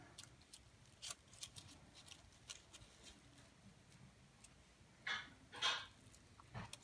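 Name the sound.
scissors cutting crepe paper for rosettes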